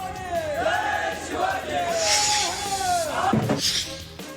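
A large crowd of Shiv Sena UBT and MNS party workers in Kalyan shouts and cheers together at a political celebration in rising, chant-like waves, loud and continuous throughout.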